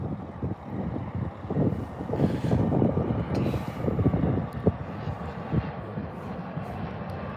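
An Envoy Embraer E175 airliner at DFW airport passes with a rising and fading engine roar, mixed with gusty wind buffeting on the microphone.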